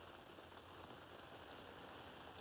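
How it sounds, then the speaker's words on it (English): Steady rain falls outdoors as an even, unbroken hiss with no distinct drops standing out, continuous and moderately close for the whole stretch with no voices. "So it's raining out"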